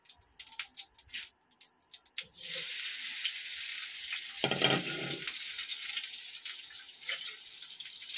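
Food frying in hot cooking oil for a home breakfast bursts into loud, steady crackling sizzle after a few quiet seconds of small clinks, staying close and continuous to the end with no talk.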